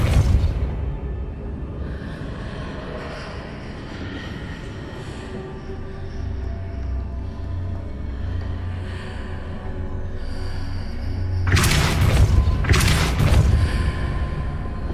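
The Depulso spell is cast in the Hogwarts Legacy video game over a low ambient rumble, and near the end two sharp, loud whooshing bursts follow in quick succession.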